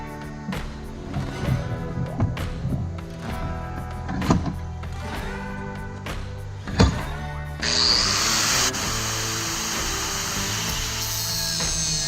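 A hacksaw rasps through motorcycle bolts in uneven strokes with occasional clanks, then a power drill starts up and whines steadily.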